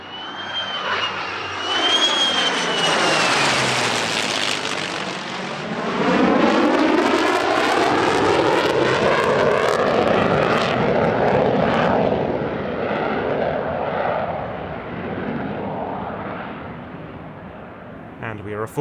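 Black Eagles jets fly in formation at an airshow, a loud roaring sweep that builds, peaks and then fades with a long descending whine as they pass overhead, with a narrator's voice talking over the noise.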